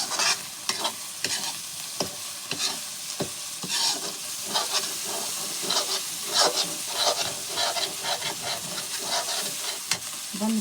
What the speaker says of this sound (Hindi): तो मसाला मेरा अच्छे से भून चुका है।